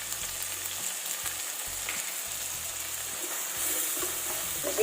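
Green peas sizzling and frying in a pan with salt for masala Maggi, a steady close crackle throughout with occasional stirring, and no one talking.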